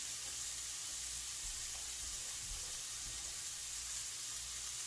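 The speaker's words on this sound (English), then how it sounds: "just saute these a bit" Food sautéing in olive oil in a pan gives a steady, soft sizzle and hiss with faint low clatter, continuous and alone without any voices.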